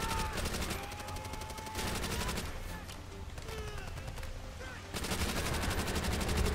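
Gunfire in the World at War video game during a co-op campaign battle: rapid machine-gun bursts and rattling fire in repeated stretches, fairly quiet and continuous.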